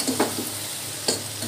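Curry being stirred with salt in a frying pan, a soft sizzle running throughout with a few scraping stirs of the spoon, close and fairly quiet.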